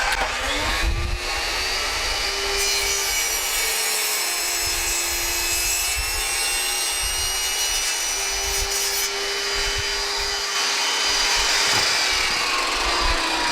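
A power saw cuts through wood for a fridge drawer, a loud, steady whining buzz with shifting pitch as the blade bites, running continuously with no talk.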